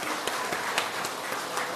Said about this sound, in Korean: 서로 수고했다고 잘했다고 또 격려해 주는 마음으로 옆 사람에게도 축복의 박수 할까요?